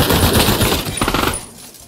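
Rapid automatic AK rifle fire from the VR shooter game Pavlov rattles in a fast burst for over a second, loud and close, then cuts off into quieter tail.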